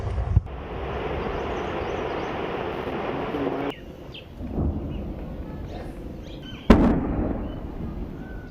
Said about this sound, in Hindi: गोलीबारी की, मोर्टार दागे